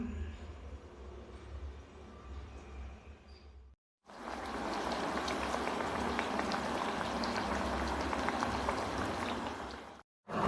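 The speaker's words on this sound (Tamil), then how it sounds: "சூடான எண்ணெயில் நம்ம போட்டு எடுத்துடலாம்" Black urad dal adai frying in hot oil makes a close, loud bubbling sizzle that runs continuously after a quieter opening stretch, broken by brief silent gaps.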